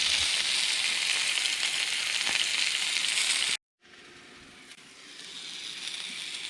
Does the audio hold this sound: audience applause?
no